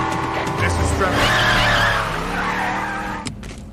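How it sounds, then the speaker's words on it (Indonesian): Car tires skid and squeal as the vehicle guns its engine and speeds off during a film car chase, a loud sustained screech lasting about three seconds before cutting off abruptly. "dia pun tancap gas sehingga terjadi kejar-kejaran antara mereka"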